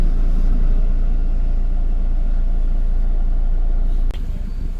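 A new Kia Sonet car arrives, heard as a loud, steady low engine and road rumble that continues for several seconds and then drops off abruptly.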